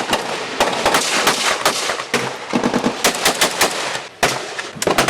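Rapid bursts of gunfire crackle loudly and continuously during an attack on a gendarmerie post in Babadjou, Cameroon, sharp overlapping shots in automatic volleys with a few heavier reports.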